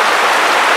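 Heavy rain pouring down in a storm, a dense, steady hiss of drops drumming on surfaces, loud, close and continuous, with no voices.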